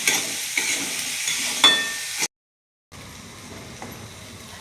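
Dry cabbage sabzi stirred with salt in a pan, a close continuous sizzle with scraping spoon strokes, briefly cut to silence before the quieter sizzling resumes.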